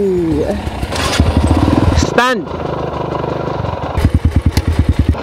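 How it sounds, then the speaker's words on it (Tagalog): A motorcycle engine rattles and putters close by, with a rising whine partway through and then a steady rapid chug, while people talk and shout over it. "Teka, may motor pa."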